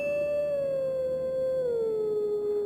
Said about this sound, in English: Howl singing.